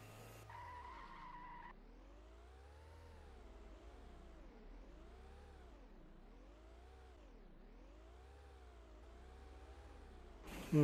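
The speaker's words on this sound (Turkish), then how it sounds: "Drifting." A car drifts in the video game Feather Party, tires skidding and squealing in long sweeping waves over a steady engine drone for several seconds, with no talking over it.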